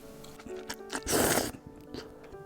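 Close, soft chewing of a mouthful of chewy whole wheat knife-cut noodles in spinach doenjang broth, with small bites and a denser burst of moist chewing in the middle, alone without talk.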